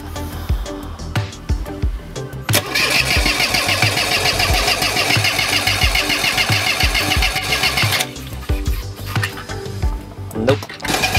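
A boat engine that ran out of fuel cranks and sputters, catching briefly into a rough, clattering run for several seconds before dying off again.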